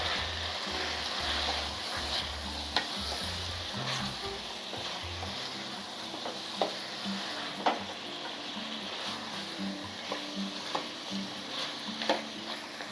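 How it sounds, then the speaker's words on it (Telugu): Boiled mutton sizzles and fries in a pan for a Telangana-style mutton curry, with a steady crackle and occasional sharp clicks as a spoon stirs it. The sound is fairly quiet and close. "ఇప్పుడు మనం ఉడికిన మటన్ వేసుకుందాం."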